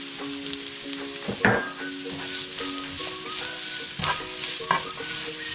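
Chopped capsicum being stir-fried with mushroom and onion for a coconut mushroom thoran, a steady close sizzle with spatula scrapes and a few louder stirring knocks against the pan.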